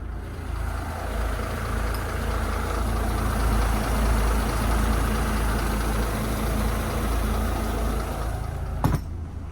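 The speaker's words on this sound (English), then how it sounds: "And started. First turn of the key, both engines." Steady low rumble of twin boat engines on a Doral 360SE idling close by, running evenly throughout with a brief knock near the end and no voices.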